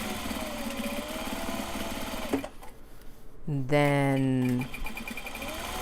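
A sewing machine stitches a side seam of a garment, its steady whirring motor running under a speaking voice, pausing briefly, then speeding up into a louder, higher run before settling again.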